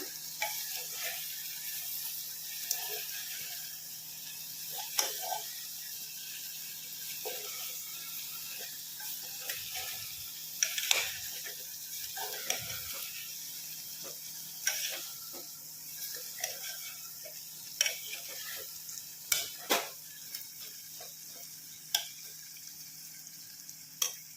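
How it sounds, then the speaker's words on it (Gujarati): Potatoes and drumstick pods are stirred and sautéed in masala for Kathiyawadi-style shaak. A steady low sizzle runs throughout, broken by frequent scraping clicks of a spoon against the pan. No one speaks. "આપણે એક સરખી આ રીતે મસાલામાં ભૂંડવી લેવાની છે"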